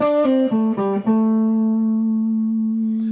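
An overdriven electric guitar runs through a few quick notes and then holds a long, sustained final note that rings out and slowly fades.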